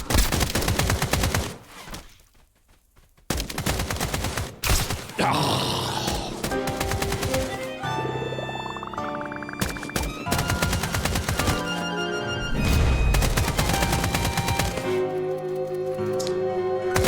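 Rapid bursts of gunfire from a poop gun in the Escape From Duckov game crackle in loud repeated volleys, interleaved with tonal game sounds and a brief quiet gap early on.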